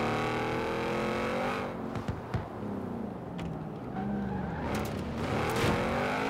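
An Audi RS7 engine in a racing video game roars loud and close, revving up and down through gear changes, with tire squeal and skidding, alone without talk.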